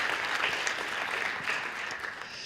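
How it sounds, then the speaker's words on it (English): An audience at a salon speaker series event gives a steady round of applause, a dense, even wash of clapping at moderate volume heard on its own throughout. "So let's give them a round of applause"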